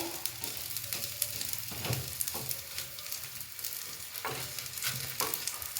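Sesame seeds roast in a dry pan, giving a faint continuous crackle and rustle with scattered louder scrapes as they are stirred, quiet and close with no voices.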